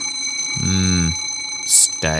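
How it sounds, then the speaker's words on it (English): Alarm block from the Orva Alarms and Sirens mod in Minecraft rings in loud, repeated electronic tones with a high piercing burst near the end, while a voice speaks briefly over it. "So right now the alarm is working because it's ringing."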